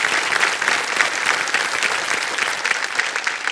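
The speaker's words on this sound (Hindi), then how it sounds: "ताली बज जाए उनके लिए।" Studio audience applause on the quiz show Kaun Banega Crorepati rolls on as a strong, even burst of many hands clapping together, dense and sustained with no voices breaking through.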